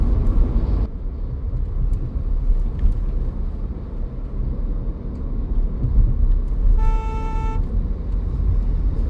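A turbo car drives through Rudrapur town traffic in India, a continuous road rumble with a short car horn toot partway through.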